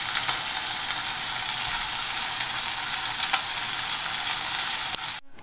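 Chicken pieces browning in an overcrowded pot for birria tacos, a steady close sizzle and crackle of frying with occasional sharper pops, no voices.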